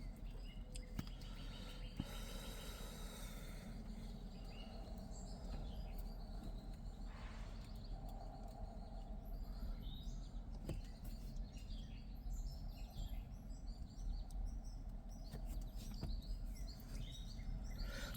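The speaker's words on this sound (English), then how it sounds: "I wonder if the microphone is picking up the sounds that I'm hearing, because it's primarily birds." Birds chirp and call outdoors after a heavy rain, a faint, continuous mix of scattered tweets over a low, steady background hum, with no talking.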